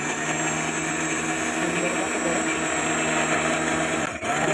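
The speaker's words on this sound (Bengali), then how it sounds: "এখন আমি ব্লেন্ডারটি সেট করে নিলাম।" An electric blender whirs continuously while blending mango sharbat, loud and close, holding a steady motor drone throughout.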